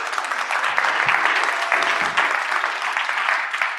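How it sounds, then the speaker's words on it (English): An audience at a medical research program meeting gives a sustained round of clapping, dense and fairly loud throughout, with a few faint voices mixed in. "I actually would like to give them a round of applause."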